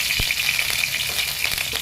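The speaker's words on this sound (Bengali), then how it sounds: "হয়ে গেছে আমার মাছের মাথাগুলো ভাজা" Fish heads fry in hot oil in a pan with a continuous bright sizzle, close and fairly loud, broken by a few soft pops over a couple of seconds.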